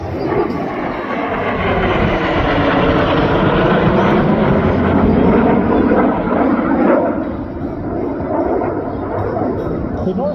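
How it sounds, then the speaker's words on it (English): Three USAF Northrop T-38 supersonic jet trainers fly in Delta formation at the Truckee Tahoe air show, making a loud, sustained jet roar with a sweeping pitch as they pass overhead. A commentator talks over the engine noise. "The Northrop T-38, as we said, is a supersonic jet training aircraft."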